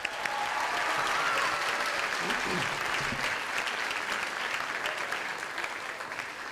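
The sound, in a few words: audience applause after concert performances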